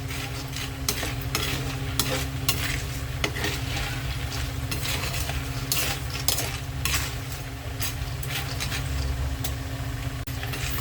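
Peanuts and garlic crackle in oil over low heat as a spatula keeps stirring and scraping the pan, a dense, steady sizzle with frequent clicks and taps throughout, no voices.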